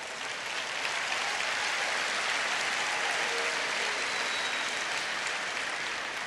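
Steady, sustained applause from a school district convocation audience, a broad, even roar of many hands clapping that fills the whole clip without pause, heard from a distance and at moderate level.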